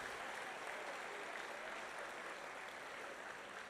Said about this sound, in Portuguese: Se estiver mais feliz ainda, dá uma salva de palmas, mistura com glória a Deus.